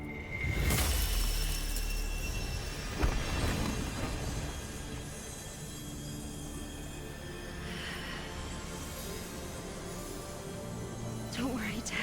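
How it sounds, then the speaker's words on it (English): Crystal shattering in the video game Resident Evil Village, a sharp crash early on followed by a smaller burst, set against steady game music and ambience. "She smashes the crystal, making her powers come back at a stronger level."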